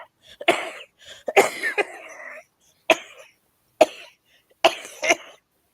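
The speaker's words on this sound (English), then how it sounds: "When I laugh, I cough." A person coughs in several short, sharp bursts, close and loud, with brief pauses of silence between the fits.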